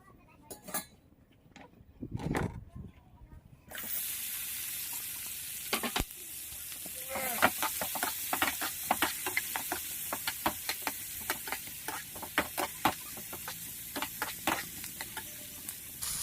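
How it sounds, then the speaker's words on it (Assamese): Chilli chicken pieces fry and are stirred in a pan: a steady close sizzle with repeated scraping and clinks of a spatula against metal, starting after a few quiet seconds with brief handling noises. "আমি এতিয়া এইখিনি ভাজি ল'ম অলপ"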